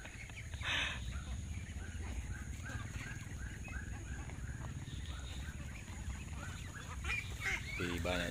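A free-range duck flock brought home to a crowded village yard honks and quacks in a constant overlapping chatter, fairly near, with one louder burst of calls near the start and more toward the end.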